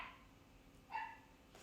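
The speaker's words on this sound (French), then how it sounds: "elle a terminé d'aboyer quand il y a quelqu'un à la porte" A dog barks once, faint and distant, against a quiet indoor background, with a weak yelp-like call at the start.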